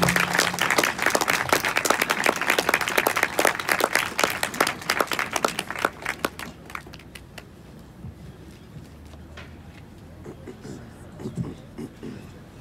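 Applause from a film music festival audience greets a composer at an interview and autograph session. Dense clapping for about six seconds tapers to scattered claps, followed by quieter room sound with a voice speaking.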